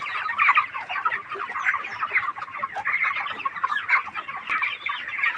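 A close, busy flock of poultry-farm chickens with mild coccidiosis clucks continuously, many overlapping calls forming a dense chatter.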